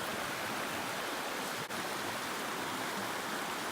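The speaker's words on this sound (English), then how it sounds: "And there's a creek right there, right next to camp." A creek running right beside a camp used as a gold dredging spot, its water low, gives a steady, close broadband rush of flowing water with no letup and no voices.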